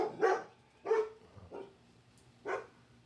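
A dog barks four times in short, separate bursts over about three seconds, loud and close, with brief pauses between them and no talk.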